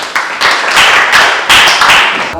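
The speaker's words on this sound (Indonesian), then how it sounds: "Kasih tepuk tangan dulu." Classroom students clapping their hands together in several uneven bursts of fairly loud, close claps that briefly swell and fade, with no talk over them.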